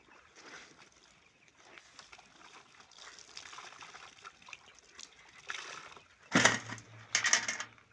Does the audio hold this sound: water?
yes